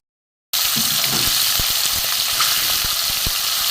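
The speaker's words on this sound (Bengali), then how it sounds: "একটু কড়া করে ভেজে নেব" Small mourola fish from the Ganges fry in a pan for a crisp finish. A loud, steady sizzle starts suddenly after a moment of silence, with sharp pops and crackles scattered through it.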